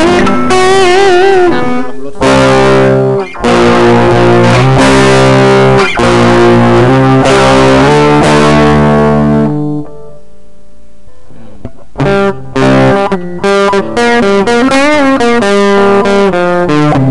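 Electric guitar with heavy distortion, set up in Vegas Pro 12 with the gain pushed to maximum, plays loud, saturated chords and riffs with a short pause near the middle before further bursts of crunchy notes.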